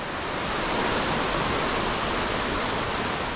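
Stream water rushes steadily through a deep, forested mountain valley at Deokdong Valley in Jecheon. The broad, dense noise stays close and unbroken for a few seconds, with no voices.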